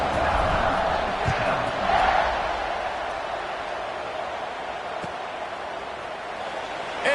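A large football stadium crowd at a Baylor vs Alabama kickoff roars in a sustained wash, swelling briefly early on and then settling into a steady distant rumble while a commentator talks over it.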